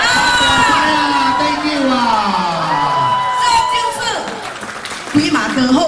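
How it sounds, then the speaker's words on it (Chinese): Audience at a Lunar New Year charity concert honouring elders cheers, whoops and claps in a loud, continuous wash mixed with singing and voices. "谢谢你们的掌声"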